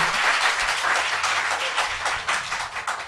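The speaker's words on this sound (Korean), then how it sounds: "박수!" An audience at a talk show breaks into applause, a brief dense patter of clapping hands heard at moderate loudness without speech.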